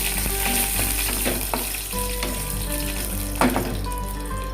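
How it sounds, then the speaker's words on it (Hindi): Whole garam masala spices fry in a hot pan with oil, a steady close sizzle with light scraping stirs and a few sharper crackles, heard alone without voices. "सारे साबुत गरम मसाले को मैं डाल दूंगा और इसको थोड़ा मैं फ्राई कर लूंगा।"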